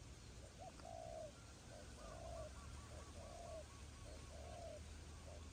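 Soft, repeated coos of a spotted dove in a steady rhythmic pattern, moderately distant over a faint background hiss.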